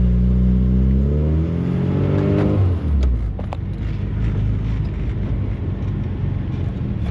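A 1974 MG Midget with a manual 5-speed gearbox revs up loudly while driving, then its exhaust note drops as it shifts, settling into a steady, close engine drone.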